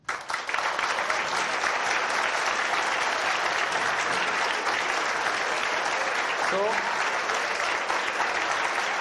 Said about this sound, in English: Please clap for this.